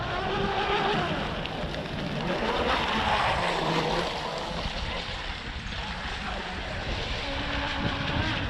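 An offshore RC boat's small motor whines steadily outdoors over wind and water, its pitch rising as the throttle opens, continuous for several seconds.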